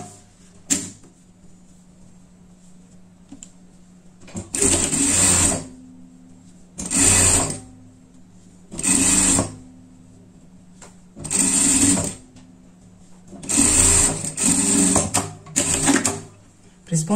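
A sewing machine stitches fabric for a pet outfit in repeated short bursts of fast whirring, separated by pauses, loud and close, with someone speaking in between.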